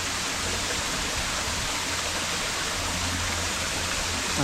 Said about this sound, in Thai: เราทำน้ำตกสำหรับฟอกอากาศนะครับให้เติมออกซิเจนในถังน้ำนะครับ